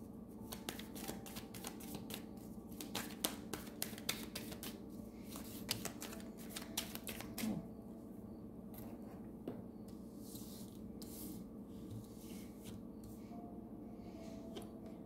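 Tarot cards are shuffled and drawn in a quick run of crisp riffling flicks and taps that thins to softer rubbing and scattered slides, close and fairly quiet.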